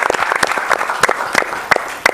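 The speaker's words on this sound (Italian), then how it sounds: "Applauso." Studio audience applauding on a Sunday sports television show, a dense wash of clapping with a few sharper claps standing out, steady and fairly loud throughout.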